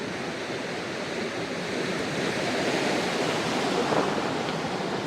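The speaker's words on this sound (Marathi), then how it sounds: "मस्त आत्ता लाटा उडतायत, उसळताना दिसत आहेत एक नंबर." Sea waves at the Alawa beach jetty in Ratnagiri, Konkan coast, roar and splash in a steady, dense wash of surf that fills the whole stretch, loud and continuous with no voices.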